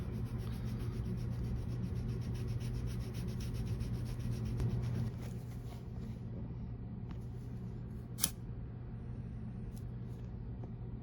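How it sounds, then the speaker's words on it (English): Steady rubbing and scraping of sandpaper worked back and forth on a vintage Allen Edmonds leather shoe, close and quiet, with a brief sharp tap near the end. "Am I sanding too hard"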